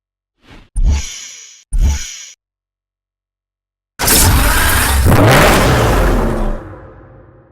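A Lamborghini Murcielago LP 670-4 SV in Need for Speed Hot Pursuit Remastered gives two short loud revs, falls silent, then lets out a sustained roaring rev of about three seconds before cutting off.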